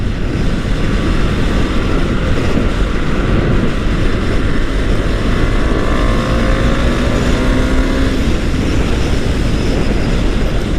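A motorbike rides along with a steady, loud engine drone and wind rush throughout, its pitch rising and falling slightly as it moves. No one speaks.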